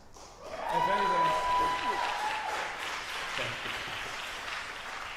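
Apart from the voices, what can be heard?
audience applause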